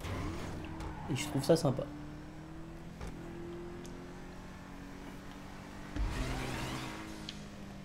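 A car in a parkour-style racing video game drives up onto a wallride track, its engine a low, steady drone beneath someone talking, with a brief louder burst of mechanical noise midway.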